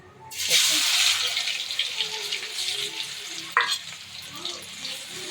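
Crushed garlic hitting spluttering mustard seeds in hot oil bursts into a loud, close sizzle that slowly eases, with a sharp scrape of stirring partway through and faint background noise.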